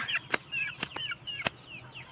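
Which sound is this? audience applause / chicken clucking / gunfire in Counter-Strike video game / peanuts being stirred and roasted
chicken clucking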